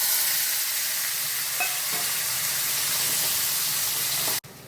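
Tomatoes, curry leaves and asafoetida frying with popped mustard seeds in a pan for capsicum tomato sabji, a loud, even hiss held throughout with a few faint stirring taps, cutting off abruptly near the end.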